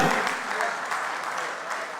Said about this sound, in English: Give everybody a round of applause that you saw on the stage tonight.